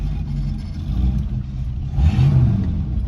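A 1973 Ford Maverick's engine drones steadily from inside the cabin while driving, a low rumble that swells briefly as the throttle opens.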